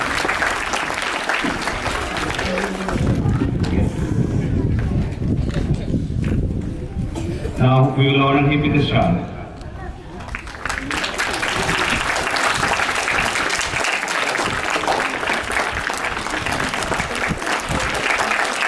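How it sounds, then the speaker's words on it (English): A school audience bursts into sustained clapping to honor a guest at a debate event, the applause loud and dense. It pauses briefly while a voice speaks over a microphone, then resumes strongly. "Clap, please."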